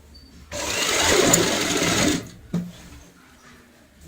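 A sewing machine runs steadily for about two seconds, stitching a seam along a strip joint on a bed sheet made from leftover fabric, then stops, leaving brief lighter handling noises.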